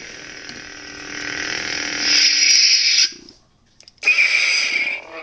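Modified lightsaber soundboard fitted with extra sound holes, giving a steady bright electronic hum that swells louder, cuts out for about a second, then returns strongly and fades slightly.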